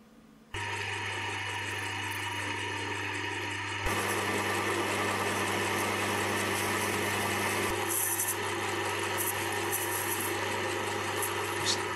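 A homemade pen part spins on a lathe while being turned down to a single diameter: a steady motor hum with a continuous cutting whine that starts abruptly, grows louder after a few seconds, and shifts slightly near the end.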